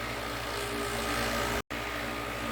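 Vibratory rock tumbler running under a basement staircase, a steady low droning hum that holds even throughout with one abrupt brief dropout near the end.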